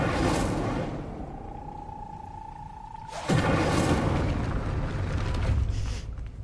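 An Incendio fire spell cast in Hogwarts Legacy: a sudden whooshing burst of flame that erupts partway through and roars on for several seconds over quieter game ambience.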